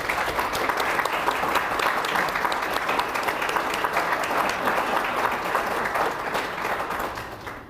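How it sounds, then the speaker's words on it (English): Sustained applause from a seated audience in a room at a city event, honoring the mayor and council members, steady and full for several seconds before tapering off at the end. "If you please stand so we can give you a round of applause."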